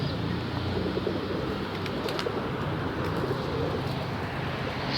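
Birds outdoors in a kept flock, with soft pigeon-like cooing and faint chirps over a steady broadband background hiss, no talk.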